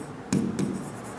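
Brief writing strokes on a board during a Class 10 geometry lesson, two quick scratchy marks close together, near and fairly clear against a quiet room.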